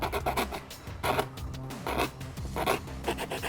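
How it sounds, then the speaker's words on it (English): Small round rat-tail file working curves into thin 3 mm sheet material, a close, continuous rasping with repeated strokes and a steady rhythm, heard alone. "I'm just going to use a little round rat tail file to create those curves"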